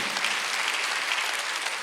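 A church congregation at a Korean Sunday worship service claps together in steady, continuous applause, a dense even patter filling the room without pause.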